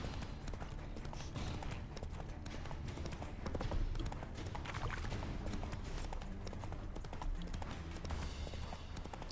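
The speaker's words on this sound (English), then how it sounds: "Come here, horse. Not so fast, Roach." Geralt's horse Roach trotting in The Witcher 3, a continuous rhythmic clip-clop of hooves on the ground, close and steady for the whole stretch with no talk.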